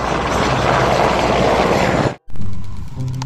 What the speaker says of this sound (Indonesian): Kita menemukan lagi helikopter. Wah, ini mau take off teman-teman.